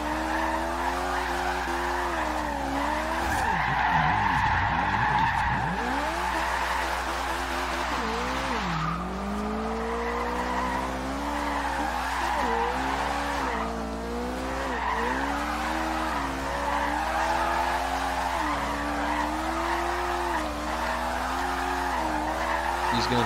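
A Donker Volt GTO drifting in Forza Horizon 2, its engine droning steadily while the tires squeal and skid through long slides, with pitch swooping as the car changes angle, continuous and close throughout.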